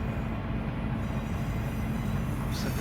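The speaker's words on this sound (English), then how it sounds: "looks like we got another train coming at us, and another one next to us" A freight train rumbles steadily in the Run 8 train simulator game, a dense, continuous low roar of rolling rail cars with no voices over it.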